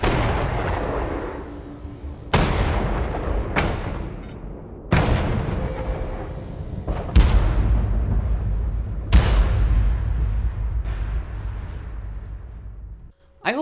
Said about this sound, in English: Here's a stinger instrument that I made using Cinematic Hits by Boom.